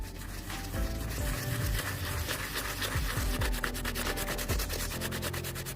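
Scrubbing a shirt's underarm to lift black and yellow stains, a steady brisk rubbing and scratching that fills the whole stretch at close range with no talk.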